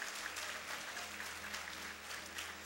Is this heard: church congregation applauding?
yes